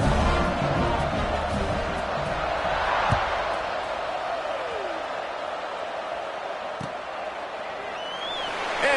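Stadium crowd noise from an NCAA 26 college football video game fills the air as a steady, broad roar at kickoff, with a couple of faint thuds and a commentator speaking over it.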